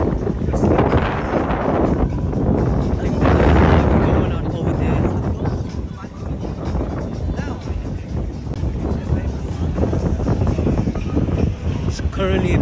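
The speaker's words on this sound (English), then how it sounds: "It's currently a bit windy." Strong wind buffets the microphone in loud, continuous roaring gusts outside the O2 arena, rising and falling for several seconds.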